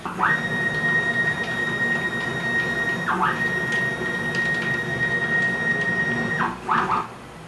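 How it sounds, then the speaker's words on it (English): A CNC machine with upgraded stepper drivers makes rapid moves, giving a steady high-pitched whine that holds for about three seconds, briefly dips, then resumes for another long stretch over a low mechanical hum. "With this board, I've increased the rapid speeds on my machine quite a lot."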